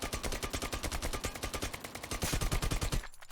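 Automatic weapon fire in the video game Lost Light, a loud unbroken stream of rapid, evenly spaced shots held for about three seconds before cutting off abruptly.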